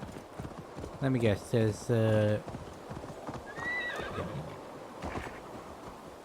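A horse in the video game Assassin's Creed Valhalla clip-clops along, then whinnies loudly in several sharp bursts. Someone speaks briefly over the hoofbeats.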